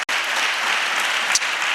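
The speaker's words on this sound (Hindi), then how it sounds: "सारी क्वायर के लिए जोरदार तालियां बजाएं।" Congregation in a church service giving loud, sustained applause for the choir, a dense even wash of clapping with one brief dip at the start.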